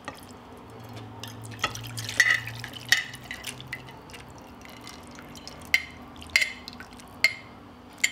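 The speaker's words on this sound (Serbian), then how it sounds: "I sad ću sipati u tanjir naš gulaš." Home-cooked goulash is spooned from a glass jar onto a plate, making soft wet plops and scattered clinks of utensil on glass, spaced out over several seconds in a quiet room.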